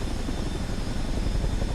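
A Chinook tandem-rotor helicopter in Microsoft Flight Simulator 2024 produces a continuous, dense rotor and turbine roar, steady and fairly loud with no speech.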